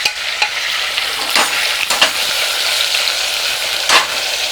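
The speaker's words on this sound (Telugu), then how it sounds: "లో ఫ్లేమ్లో పెట్టి మగ్గనిద్దాం." Stuffed eggplants frying gently in oil over a low flame, a close, steady sizzle with occasional soft stirring scrapes and no voices.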